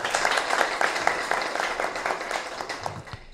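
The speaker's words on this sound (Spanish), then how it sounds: "Un fuerte aplauso para este gran logro." Brief burst of audience applause at a municipal census commission swearing-in ceremony in Sosúa, clapping fairly close and fading out after about three seconds.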